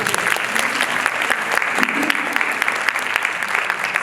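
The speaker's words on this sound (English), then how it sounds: "So give yourself a hand clap." Staff at a Head Start development training day give themselves a round of applause, steady clapping from a modest group that continues evenly throughout.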